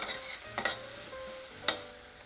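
Spring onions, chili and shiitake mushrooms sizzle softly in a little cooking oil in a pan, a faint steady hiss broken by a couple of sharp utensil clinks against the pan.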